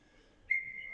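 Referee's whistle at an ice hockey game after the goaltender covers the puck, a single short, thin whistle blast heard faintly at a distance that trails off over the arena's low background.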